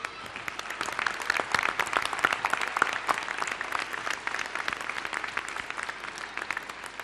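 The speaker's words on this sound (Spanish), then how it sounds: "Un aplauso enorme para todos." Sustained applause from an audience at a children's TV channel programming launch event, dense clapping holding steady for several seconds without talk.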